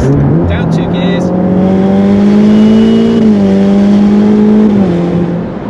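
A Ferrari F8 with a V8 engine dropping two gears and pulling hard, its loud, steady rising drone held close under the cabin, tone shifting briefly mid-pull.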